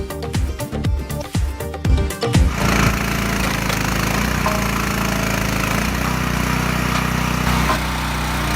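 A mobile firewood log splitter processing machine runs loud and close, with sharp clattering knocks from the wood for the first couple of seconds before settling into a steady engine drone.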